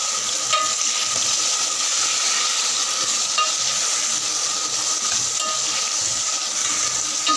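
About 250 grams of potato, green chilies and a tomato go into a hot frying pan of oil, giving a steady, loud, continuous sizzle with faint stirring scrapes throughout and no talking.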